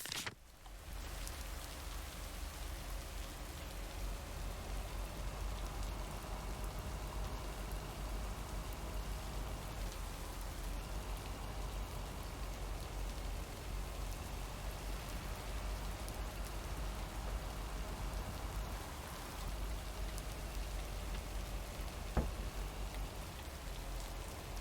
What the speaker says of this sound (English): I'm kind of just happy here, like, listening to the rain and trundling through.